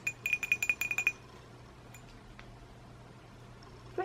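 A glass hot chocolate mug from a Hotel Chocolat Velvetizer gives a quick run of about eight light, close clinks, followed by quiet handling sounds.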